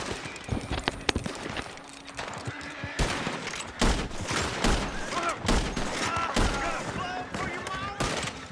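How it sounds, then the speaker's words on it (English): Gunfire in a video game: bursts of rapid shots and scattered single cracks mixed with other game sounds, loud and close, with voices talking over the action. "are they shooting at him?"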